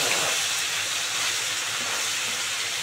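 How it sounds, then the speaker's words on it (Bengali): Heavy rain falls in a steady, dense hiss that fills the whole stretch without a break, loud and even, with no voices. "অতিরিক্ত বৃষ্টি হচ্ছে"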